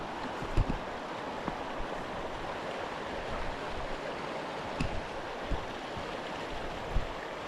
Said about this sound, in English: there's quite a few of these long pools where the water drops down, fills it up, and then it drops down again further on